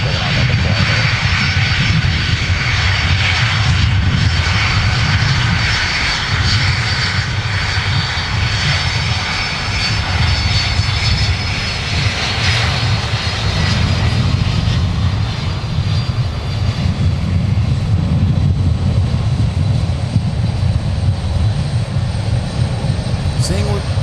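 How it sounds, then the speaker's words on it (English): Delta 298, a heavy jet taking off from the south parallel runway at MSP airport, a loud sustained engine roar at close range that stays strong throughout, with a voice talking over it. "Delta 298 was cleared for takeoff before they even turned to line up for the south parallel runway"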